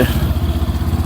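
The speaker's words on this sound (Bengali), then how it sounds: "অটো যাচ্ছে" An auto-rickshaw passes close by on a rough, badly damaged village road, its small engine giving a loud steady rhythmic putter throughout the short clip.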